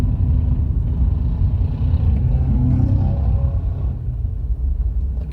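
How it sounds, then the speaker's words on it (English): A car with a rough-sounding engine rumbles past nearby on a drive along the M60 and M61, its throaty low grumble swelling and then fading slightly. "That car doesn't sound great."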